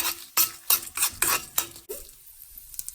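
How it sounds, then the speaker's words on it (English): Red chili stirred in a frying pan with a spatula, giving five or six quick, close scraping strokes in a steady rhythm over a faint sizzle, then trailing off. "Next I'm adding red chili. Just stir it for a minute."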